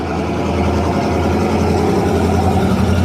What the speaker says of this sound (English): Here comes another giant truck.